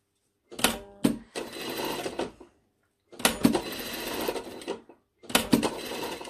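Sewing machine stitching a shoulder seam on a lined cranberry jacket, in three bursts of rapid mechanical whirring separated by short silent pauses.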